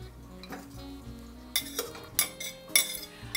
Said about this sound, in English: Next, I'm adding my onion.